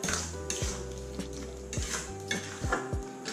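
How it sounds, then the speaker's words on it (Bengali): Sugar being stirred into a hog plum (amra) pickle in a metal pot, with repeated scraping clinks of a utensil against the pan at a steady rhythm, close and fairly loud. "এখন এই চিনি আর আমড়াটা ভালো করে মিশিয়ে দিয়ে"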